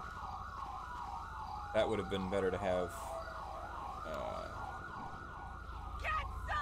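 An ambulance siren in the GTA V LSPDFR police game wails in a steady, fairly loud rising-and-falling sweep throughout, with a brief burst of other noise partway through and someone talking over it.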